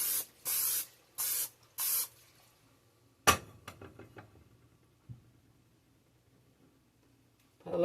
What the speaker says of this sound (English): Spray our pan a little bit.